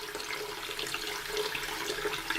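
Water splashes and trickles steadily as a sanding block is dipped and moved in warm soapy water with dish soap, a close, continuous liquid wash with no voices.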